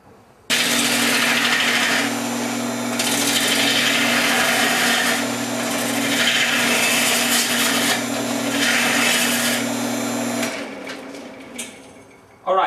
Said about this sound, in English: I turn everything at the lowest speed, which is 600 RPMs on my lathe.